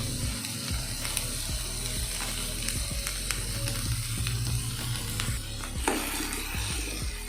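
Chopped onions with curry leaves and a little salt sizzle steadily in hot oil in a pan, with a continuous loud frying hiss and occasional stirring clinks.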